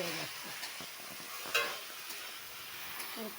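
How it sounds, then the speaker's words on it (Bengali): Okra frying in a pan gives a faint, steady sizzle with a few soft stirring clicks and one sharper scrape. "করেই ভাজবো ভেন্ডিটা দিয়ে দেবো"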